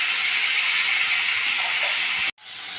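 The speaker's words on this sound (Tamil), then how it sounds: "வெங்காயம் வதங்கிடுச்சு, தக்காளி போட்டாச்சு, அப்படியே வதங்கட்டும்." Onion and tomato sautéing in a pan for idli sambar, a steady close hiss of sizzling that runs unbroken before cutting off sharply near the end and then resuming more quietly.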